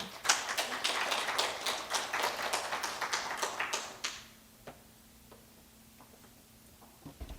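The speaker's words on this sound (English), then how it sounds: "let's give them a round of applause" An audience applauds presenters at an OSU reflection event with dense, steady clapping for about four seconds, then it drops off to a few scattered claps and a faint hum.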